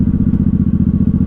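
A 1983 Honda Shadow VT750C 750 motorcycle engine idles close by, a loud, steady low-pitched rumble with an even, rapid pulsing beat and no voices.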